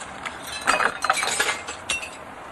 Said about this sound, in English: off we go and pull out all that glass